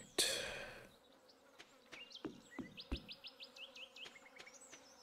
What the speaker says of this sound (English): I can hear the flies, and they're so annoying. I hate buzzing